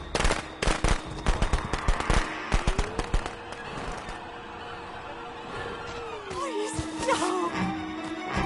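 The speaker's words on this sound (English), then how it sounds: "the survivors can drop fireworks to kind of stun you." Fireworks dropped by survivors in the Friday the 13th video game, heard as a rapid crackling burst of sharp bangs over the first few seconds, with a sustained game tone and whistling effects afterward.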